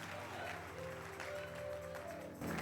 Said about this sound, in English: Oh, the Christians are clapping for Jesus.